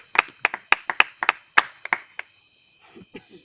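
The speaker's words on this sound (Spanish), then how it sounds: "Denle un fuerte aplauso al Señor" About a dozen sharp, distinct claps from a small church congregation, loud and close, spaced irregularly before trailing off into a few faint taps.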